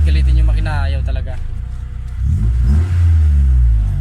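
A 1999 Honda Civic VTi engine revs up and holds high, dips briefly, then revs again, loud and close, with someone talking over it.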